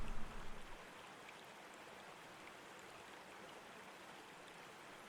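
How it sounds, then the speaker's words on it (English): Rain falling in the survival game UnReal World during the summer season, a steady soft hiss that holds evenly throughout after a slightly louder opening moment, with no talking. "Maybe even in the rain."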